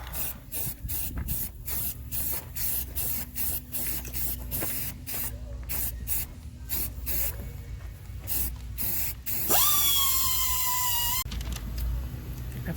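Aerosol spray paint hisses in repeated short bursts onto rusted metal, a steady rhythmic pattern of close, loud puffs, with a longer continuous spray near the end.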